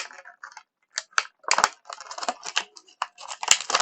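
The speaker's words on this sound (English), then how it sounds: "I'm just going to do a little snip right there." Scissors snip through plastic toy packaging for a Masters of the Universe Origins figure, giving a run of sharp close cuts and crinkles with short pauses between them, no talking.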